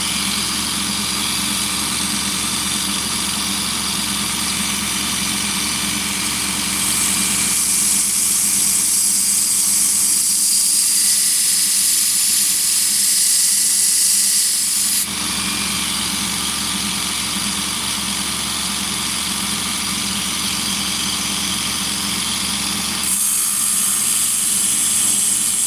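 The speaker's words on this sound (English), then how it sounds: "You can see the finish that Scotch-Brite wheel leaves on it, nice and clean." A motor-driven Scotch-Brite wheel finishes a knife blade in a workshop, a loud steady whirring hum with shifts in tone as the blade is pressed on and lifted off, no talk.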